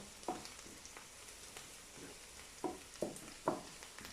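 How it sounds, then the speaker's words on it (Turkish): Onions frying in a pot for mint soup, with a soft, quiet sizzle and several spaced scrapes of stirring, a couple of them louder, and no voices. "Soğanım kızardı. Şimdi nanesini atıyorum. Azıcık da naneyle kavuracağım."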